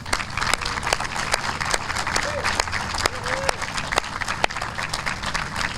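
Outdoor crowd applauding three mural artists at a street mural dedication, steady clapping throughout with a few sharp louder claps and brief background sounds, fairly close and moderately loud.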